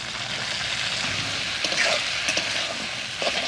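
Washed flat beans from the Dumka hills go into a hot pan and sizzle, a close, steady frying crackle with a few louder spits and stirring scrapes, no voices.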